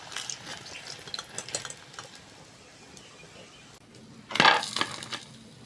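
Fried chops are lifted out of hot oil, a soft steady sizzle followed near the end by a brief louder burst of bubbling and scraping, close up, with no talking.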